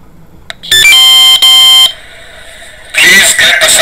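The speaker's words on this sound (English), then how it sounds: "It will soon start the alarm and announcement" A drone's alarm for an unhealthy AHRS sounds loud, shrill electronic tones in steady bursts, with a brief break before a harsher, noisier burst returns.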